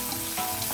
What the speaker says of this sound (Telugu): ఆ నూనెలో డైరెక్ట్ కరివేపాకు వేస్తే చట్పట్లాడి నూనె మీదకి వస్తుందండి